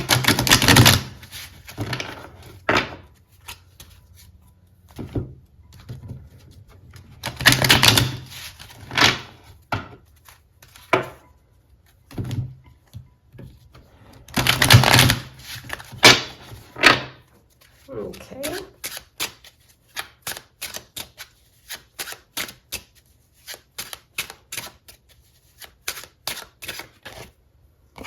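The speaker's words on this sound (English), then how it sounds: "Let me give these a quick shuffle." Tarot cards are shuffled by hand in repeated bursts of crisp riffling and slapping, close and loud, with pauses between and a brief spoken word partway through.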